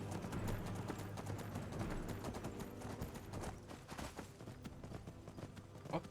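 Horse hooves clip-clop at a steady, rhythmic pace as a rider travels in the Skyrim video game, moderately loud and continuous under a low background hum.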